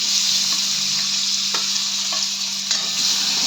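Tomatoes fry in hot oil with asafoetida in a pan, a steady close sizzle with a few soft stirring clicks, no voices.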